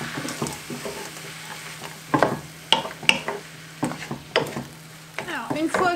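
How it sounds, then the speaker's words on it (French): Shallots and frozen mushrooms sautéing in a pan, a soft sizzle broken by irregular scraping and clattering stirs of a utensil, fairly quiet and close. "les échalotes et les champignons et je vais les faire un petit peu revenir."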